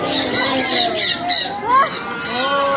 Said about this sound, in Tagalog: Look at the bird. Parrot.